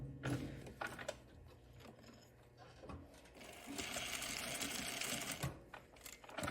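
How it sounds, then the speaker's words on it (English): A sewing machine stitches a tag onto the narrow finishing hem of a neckline on a tie top, running in quick mechanical bursts with short pauses and a steadier stretch of stitching near the end, close and moderately quiet. "I like to stitch the tag only to that hem."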